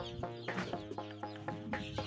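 Chickens cluck in short, repeated bursts inside a brooder, several birds close by over a steady low hum.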